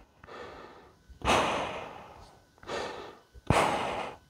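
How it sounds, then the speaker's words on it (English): Breathing through a gas mask filter, with two pairs of airy, rasping breaths close to the mic, each a softer pull followed by a louder rush, separated by short pauses. "if you look close, I'll do an inhale"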